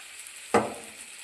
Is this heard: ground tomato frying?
yes